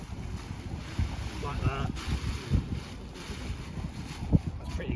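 Strong wind buffets the microphone outdoors while a paraglider wing is packed, a constant low rumble with gusty bumps and a few brief spoken words.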